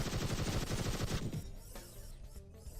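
Battlebots in the video game Gladiabots trade rapid gunfire, a fast burst of crackling shots for about a second, followed by fainter scattered pops and a low rumble.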